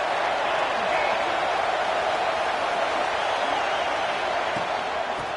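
A football stadium crowd at Notre Dame v USC keeps up a dense, loud, continuous roar of cheering that barely rises or falls.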